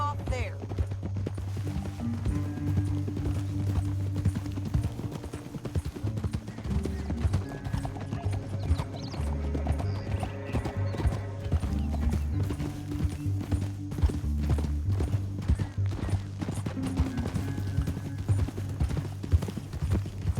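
Horse hooves from Red Dead Redemption 2 clip-clop in a steady rhythm on a canyon trail, with occasional snorts and whinnies, under game dialogue and a background score.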